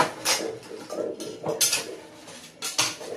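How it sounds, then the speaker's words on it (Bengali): Dishes and cooking pots in a large pile being scrubbed and clattered, with repeated metallic clinks and scraping strokes in uneven bursts, close and moderately loud. "এখন আমি এই যে বাসন মাজছি প্রচুর বাসন"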